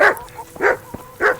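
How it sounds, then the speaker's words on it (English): Dogs barking in the medieval role-playing game Kingdom Come: Deliverance, three loud close barks spaced evenly apart with small yips between them and no talking. "These dogs."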